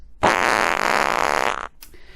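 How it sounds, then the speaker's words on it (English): Generic fart noise sound effect: one long, loud, buzzing blast lasting well over a second, with a rippling flutter before it trails off, followed by a brief tail. "we think the NRA instead deserves a generic fart noise"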